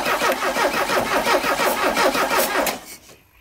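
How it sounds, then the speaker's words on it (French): Alfa Romeo 33 engine cranked on battery alone, a slow, labouring starter whir in regular pulsing beats, close and loud, stopping abruptly near the end without catching. "le moteur tourne super lentement là parce que je suis juste sur la batterie"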